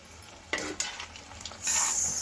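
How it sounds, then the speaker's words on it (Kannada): Gulab jamun balls fry in hot oil over a low flame with a steady background sizzle, a few sharp utensil clinks and stirring scrapes, and a louder burst of bubbling near the end. "ಹಾಕ್ಕೊಂಡು ಇದನ್ನು ಗೋಲ್ಡನ್ ಬ್ರೌನ್ ಬರೋವರೆಗೂ ಫ್ರೈ ಮಾಡಿ ತಗೋಬೇಕಾಗತ್ತೆ"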